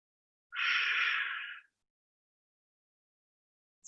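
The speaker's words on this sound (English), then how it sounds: "Take full breath." A single full, deep breath drawn in during a guided meditation and movement session, a soft airy inhale of about a second, close and alone against silence.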